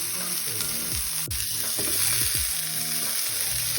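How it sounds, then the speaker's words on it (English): A stir fry sizzles steadily in olive oil in a pan, with a constant close hiss and occasional clinks and scrapes of stirring. "So I've just added in a tablespoon of olive oil. I'm just letting this cook away"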